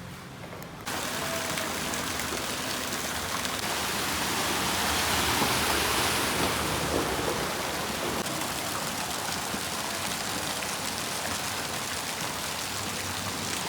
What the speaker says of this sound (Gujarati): આપણે વરસાદ તો બહુ આવે છે